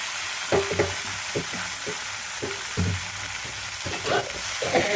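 Taro leaves (kochu shak) fry in a pan for a meatless Bengali dish, giving a steady sizzle with repeated stirring scrapes and clatters at an irregular rhythm, up close, with no talk.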